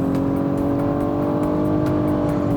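A 2016 Nissan Maxima accelerates hard in sport mode, its engine drone rising steadily in pitch as the revs climb, loud and continuous from inside the cabin.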